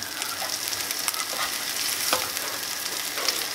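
Black bean burgers fry in a pan with a constant close sizzle at steady volume, broken by a few small pops and crackles and no voices.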